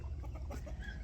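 Soft clucking from chickens close by over a low background rumble, short irregular calls across about a second.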